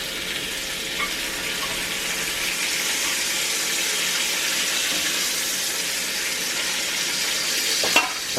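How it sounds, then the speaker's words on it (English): Bacon fries in a cast iron pan with a constant close sizzle and hiss that barely changes, ending in a couple of sharp clatters as the strips are turned. "Give that bacon a turn."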